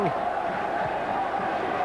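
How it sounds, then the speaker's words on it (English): A rugby crowd at Knowsley Road roars in a broad, steady wash during St Helens versus Sheffield in 1996, heard beneath a commentator's voice. "great jubilation here at Nosey Road, the crowd anticipating"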